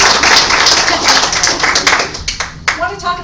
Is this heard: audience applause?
yes